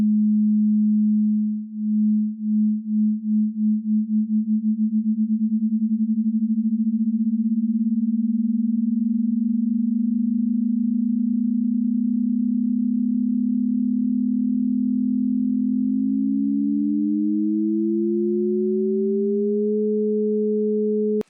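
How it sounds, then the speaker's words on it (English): A steady pure sine tone holds with a second sine tone sweeping in frequency against it, producing throbbing beats that quicken into a smooth blend, then a tone rises in pitch. "sweep sine waves in frequencies to hear the range of how beating can sound"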